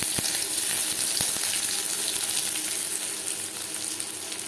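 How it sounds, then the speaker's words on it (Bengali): Onions frying in mustard oil for an oler patar vorta, a steady dense sizzle throughout with a few sharp crackles near the start, loud and close with no talk. "সবার প্রথমে আমি পেঁয়াজ ভেজে নেব।"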